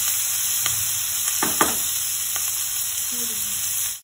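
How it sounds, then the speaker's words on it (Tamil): Onions sauté with a little salt in a pan for Chettinad crab gravy, making a continuous close sizzle, with a few short scraping stirs in the middle and a faint squeak later. "நல்லா வதக்கி விட்டுக்கணும்"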